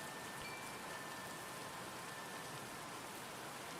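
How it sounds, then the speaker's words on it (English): Steady rain falls throughout, a continuous dense hiss of drops on a surface with no pauses, and a faint thin tone runs underneath. "It's still raining, huh?"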